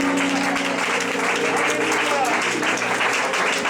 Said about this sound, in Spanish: Denle ese aplauso, iglesia